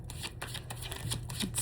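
Tarot cards being shuffled by hand, a quiet, close run of soft riffling flicks and slaps in quick succession, alone without talk.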